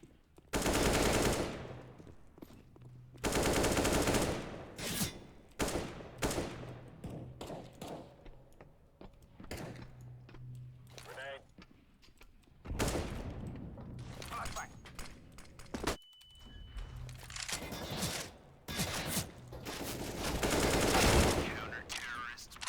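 Rapid automatic gunfire and single shots in a video game, several loud bursts spread across the stretch, with players talking over the action between volleys.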